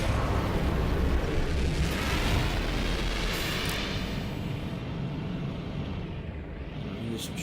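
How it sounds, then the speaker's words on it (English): Spaceship weapon fire and roaring engine noise during a strafing run in No Man's Sky survival mode on PS4 Pro, a continuous dense blasting rumble with crackling bursts that stays loud throughout before easing slightly. "I'm going to do some strafing runs here."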